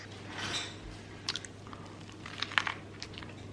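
Crunchy sweet corn chewed close up, with wet squishy bites and a few sharper crunches standing out near the end, no talking.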